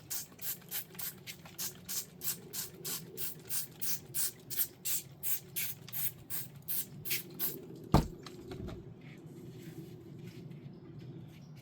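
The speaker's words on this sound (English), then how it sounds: "So you're spraying the heck out of the leaves" A hand sprayer pumps water onto camellia leaves after cleft grafting, about twenty quick rhythmic spritzes close by, then a sharp knock and quieter rustling.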